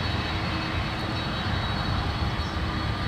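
Boeing 767 jet engines roar steadily at San Francisco International Airport, a dense and constant broadband rumble from a large airliner that holds at an even, moderate level throughout, with no voices.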